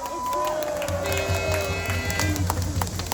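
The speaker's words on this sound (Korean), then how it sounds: "여러분 7분의 국회의원을 위해서 큰 박수 주시기 바랍니다" A rally crowd applauds for seven National Assembly members, clapping mixed with cheering and a rhythmic low thumping, while a voice and sustained tones carry over the top.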